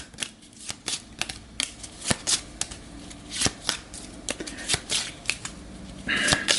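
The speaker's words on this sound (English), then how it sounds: "It would help if I don't shuffle the cards like an idiot and spill them everywhere." Board game cards for Gaia Project are shuffled and spilled on a table, giving a run of crisp riffling snaps and papery slaps close by, ending in a louder scattering flutter.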